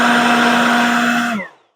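A Ryobi P2014 HP 18V cordless leaf blower on a 4 amp hour battery runs at a loud, steady, close whine, then cuts off and spins down quickly at the end.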